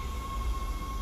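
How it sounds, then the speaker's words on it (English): In the Dead Space video game, a tram pulls into a spaceship's flight deck station with a steady low rumble and a sustained high mechanical whine, with no speech. "Tram arriving at flight deck station."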